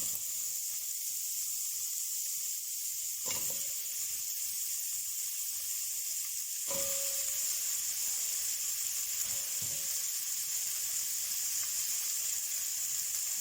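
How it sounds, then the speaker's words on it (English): Onion and garlic sizzling in a hot pan, a steady bright hiss running throughout with a few soft clinks, alone with no talking. "into that pan we're going to pop our onion and garlic if you're using it"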